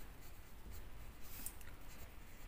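Handwritten working on a board or page during a maths lesson on integration, a steady faint scratching of strokes across the whole stretch, with a brief brighter scrape about midway and no talk over it.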